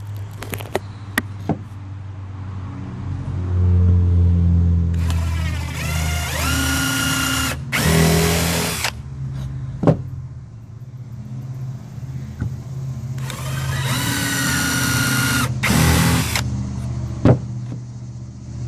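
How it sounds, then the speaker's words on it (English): A power drill whirs in two bursts pre-drilling holes in wood, rising and spinning for a few seconds each, with clicks, handling noise and a low rumble in between. "we can go ahead and pre-drill our holes with our drill bit right here"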